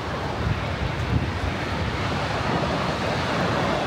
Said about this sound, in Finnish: vesi valuu alas Atlantin valtamereen